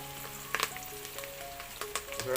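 Green chillies and curry leaves frying in hot oil for crispy poha chivda, a quiet, close crackle with a few sharp pops scattered through a brief moment.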